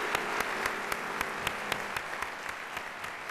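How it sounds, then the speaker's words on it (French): Audience applause in a hall, a faint steady wash of many hands clapping, with a few louder individual claps standing out at a regular pace. "Applaudissements."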